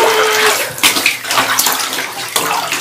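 Water splashing and sloshing in a bathtub with a cat in it, steady broadband rushing with louder splashes near one and two and a half seconds, close and fairly loud, with no talking.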